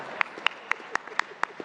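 Rhythmic clapping at a speech to a meeting, sharp claps landing in a steady beat of about four per second, fairly close and even, with a faint murmur between the claps.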